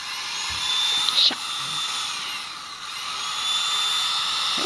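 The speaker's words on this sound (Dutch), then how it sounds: "Dat is de boormachine" A high-pitched electric drill whine, like a dentist's drill, runs steadily throughout, with a brief louder burst early on and faint background sound beneath.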